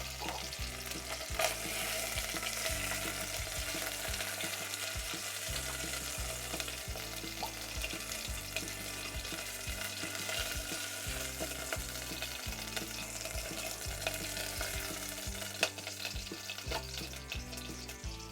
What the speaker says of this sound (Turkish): Biraz mühürleyeceğiz etlerimizi önce.